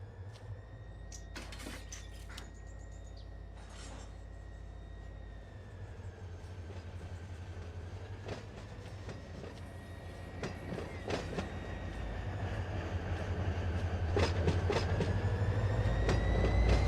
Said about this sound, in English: Drive forward. That's just enough for 2 locomotives, and then back up.